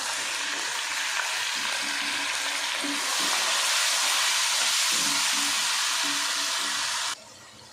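Spiced potato masala sizzles and hisses steadily in a hot pan as blended tomatoes go in, the frying swelling louder midway with soft stirring scrapes before cutting off abruptly near the end.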